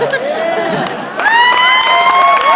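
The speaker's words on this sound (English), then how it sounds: "You can lift up that applause sign." An audience at a stand-up comedy show cheers loudly, with whoops and shouts that swell after a brief lull and stay dense and close.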